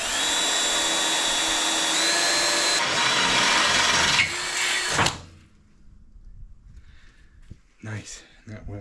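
Power drill boring steadily through metal at a center punch mark while fitting a car drivetrain, loud and close, whining for about five seconds before cutting off, then a person speaks briefly.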